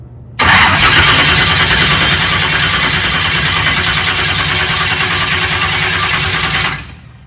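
Dry-sump engine running on alcohol fuel cranks steadily for about six seconds without catching, a loud continuous starter churn that cuts off abruptly at the end.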